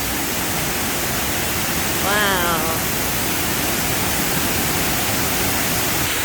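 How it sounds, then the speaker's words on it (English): Big waterfall at the Singapore bird park roaring as a constant, loud broadband rush, with a brief exclamation from a voice partway through. "Big waterfall at the bird park."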